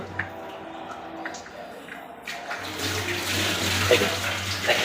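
Water runs steadily from a household tap on a direct supply line, a continuous hiss that swells louder midway and carries on without speech.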